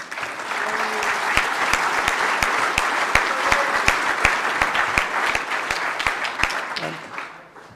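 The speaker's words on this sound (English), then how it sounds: "So I think a round of applause for Weed there." An audience at an annual general meeting applauds steadily for about seven seconds, a dense wash of clapping that fades near the end, with a few sharper claps standing out.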